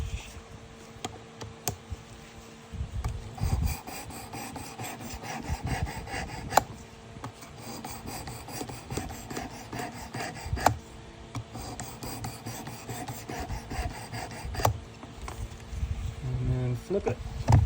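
Sandpaper of 600 or 800 grit rubs across the blade of a vintage USA-made Gerber Sportsman knife in steady back-and-forth strokes, a close, continuous rasping that carries on under a voice, with a few sharper ticks along the way.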